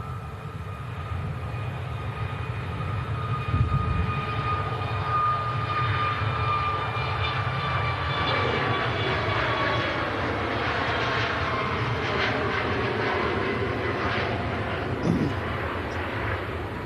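Boeing 737 Max airliner taking off at Manchester: sustained jet engine roar with rising and falling whining tones sweeping across the spectrum as it passes, fairly loud and alone.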